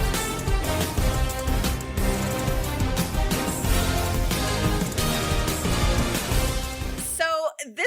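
A sports theme plays as loud, dense orchestral music with driving percussion, then cuts off abruptly near the end into a brief trailing sound.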